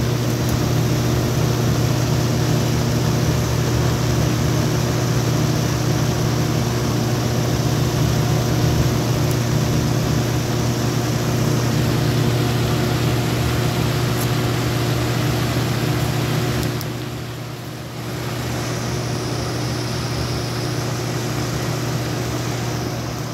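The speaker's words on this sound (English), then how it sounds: "And then I'll let you guys listen to the motor." An electric motor in a LakeWood P-223 fan runs with a continuous, even hum and whir that holds steady for the whole stretch, dipping briefly once.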